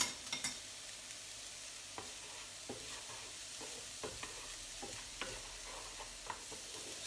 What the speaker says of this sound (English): now I'm going to fry these vegetables up